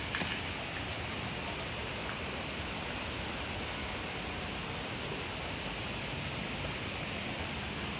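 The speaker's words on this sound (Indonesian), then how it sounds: "Itu sungai kayaknya di bawah sana ya." A river flows below an ecological garden in Hong Kong, heard as a steady, even rushing of water that is continuous and fairly loud, with no talking.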